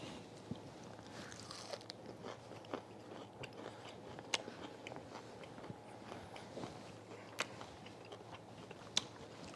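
Crunchy roasted broccolini topped with everything bagel seasoning is bitten and chewed close up, with quiet irregular crisp crunches scattered over a soft background.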